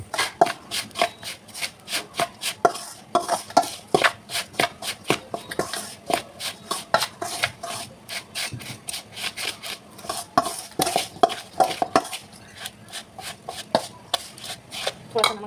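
Semolina batter mixed with curd in a bowl for idli, a spoon scraping and stirring in a steady run of close, sharp strokes and taps against the bowl with no talking.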